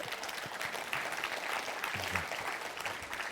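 An audience applauds at a Science of Mind gathering, a steady, dense wash of clapping that holds evenly throughout at moderate loudness.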